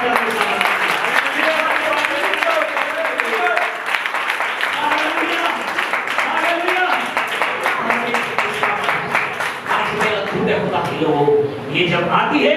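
Congregation applause during a Hindi Christian sermon, a continuous, fairly loud spread of clapping from many hands that holds for most of the stretch before thinning out near the end.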